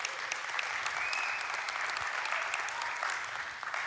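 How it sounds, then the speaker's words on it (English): A church congregation at a Liberty Church service claps together in a sustained, even round of applause, moderately loud and filling the room without talk. "why don't you give yourself a hand clap?"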